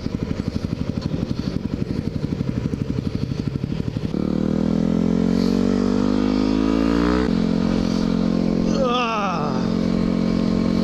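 A motorcycle ridden on a road, its engine pulsing in a steady low throb, then revving up through the gears with rising pitch and a later shift, loud and close with wind rush.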